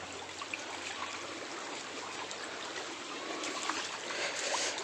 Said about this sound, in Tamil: உள்ள தண்ணி ஓடியாடுது.